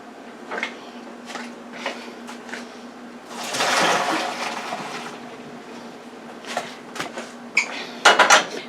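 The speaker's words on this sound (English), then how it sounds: "So I'm going to pour it off into the strainer, and then I'm going to run cold water over the pasta" Cooked ziti pasta is poured into a kitchen strainer and rinsed under running cold water, with scattered clanks of pot and strainer, a steady rushing pour midway, and sharper metallic knocks near the end.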